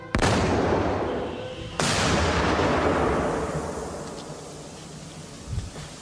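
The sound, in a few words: explosion fired against armored car door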